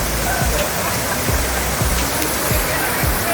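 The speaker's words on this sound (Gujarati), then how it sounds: "મસ્ત મજાનો ધોધ પડી રહ્યો છે મિત્રો" Sunsar waterfall near Bhiloda in Aravalli pours down in a loud, steady rushing roar of falling water that fills the whole clip without a break.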